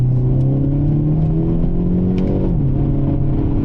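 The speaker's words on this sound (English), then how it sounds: "I really like what Hyundai did with this exhaust. Sounds really, really good." A Hyundai Elantra N exhaust revs close by, its tone climbing and then dropping off in one short, loud burst.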